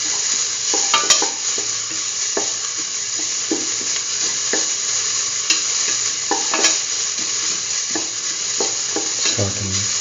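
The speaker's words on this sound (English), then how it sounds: "Thoroughly sauteing it." Curried egg and mung bean stew sautéed in a pan, with a loud continuous sizzle and repeated spoon scrapes and taps against the pan, close and steady throughout.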